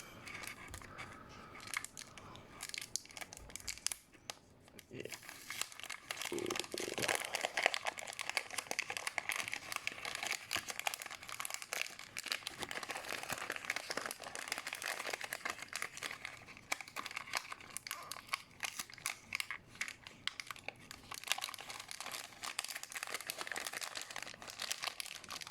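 Inno model car packaging for a Honda City Turbo II Spoon Sports edition with Motocompo being unwrapped and opened. Close, continuous crinkling and rustling of plastic and cardboard goes on throughout, with occasional tearing and sharper crackles.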